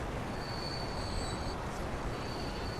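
A train in the Transport Fever game, a steady rumbling rail noise with high wheel squeals sustained across the clip, with no talk.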